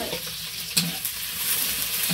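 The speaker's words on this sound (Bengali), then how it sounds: "আর এখানে আমি কড়াইয়ে দিয়ে দিচ্ছি হচ্ছে পেঁয়াজ" Onions fry in a hot wok, sizzling steadily while a spatula scrapes and stirs, with a sharp clatter partway through.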